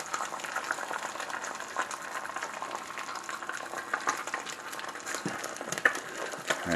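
Thick sausage gravy, made with bacon grease, bubbles steadily in a pan, a dense continuous simmer with small pops and plops close up, with no talking over it.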